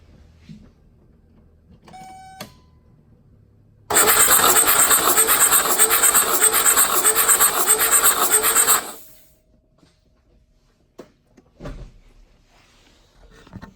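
A Mercedes 300SD diesel engine cranks over during a compression test, about five seconds of loud, even, rhythmic starter churning that stops abruptly, surrounded by quiet clicks and workshop noises.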